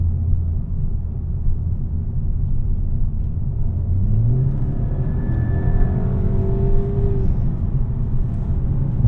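A VW Mk6 Golf GTI with DSG gearbox accelerating hard in sport mode, heard from inside as a steady engine rumble with rising rev sweeps climbing in pitch, loud and continuous without speech.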